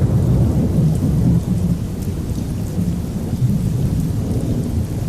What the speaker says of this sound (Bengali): এমন সময় আবার কালো মেঘ করে বৃষ্টি শুরু হলো।